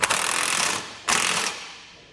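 Socket wrench ratcheting on 19mm bolts securing the support gussets of a TorkLift SuperHitch Magnum trailer hitch on a 2017 Chevrolet, two loud close bursts of rapid clicking separated by a brief pause.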